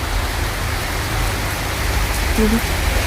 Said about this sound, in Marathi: आवाज खूप जोर जोरात येतोय पावसाचा